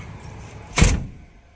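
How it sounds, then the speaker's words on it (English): A door swings shut onto an electric strike lock in an access-control installation, giving one firm thud near the middle of an otherwise quiet moment. "And shut this door."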